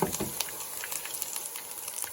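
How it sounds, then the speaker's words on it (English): Breaded whelks deep frying in hot oil give off a faint, steady bubbling sizzle with small crackling pops throughout. "we're simply going to deep fry them for 1 minute, no longer, 1 minute"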